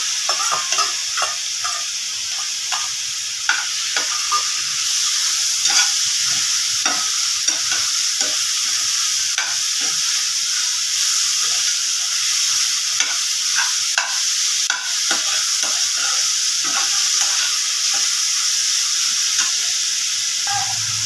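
Finely chopped tomato sautéed with masala in a pan for a dried-shrimp chutney, giving a loud continuous sizzle broken by frequent rhythmic stirring scrapes and taps.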